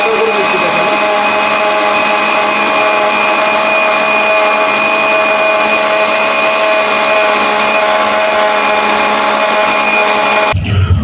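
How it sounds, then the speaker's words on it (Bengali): A blender whirs through pudding ingredients, including milk powder and a pinch of salt, as a loud, steady motor whine that holds throughout and cuts off abruptly just before the end. "তো আমাদের ব্লেন্ডার করা এখন হয়ে গেছে।"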